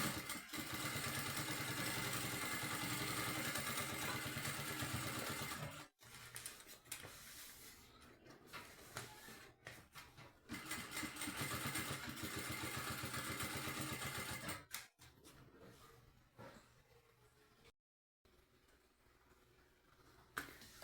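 Sewing machine stitching the lining of a small case, a steady loud mechanical whirr running in several bursts with short stops between them, no talking.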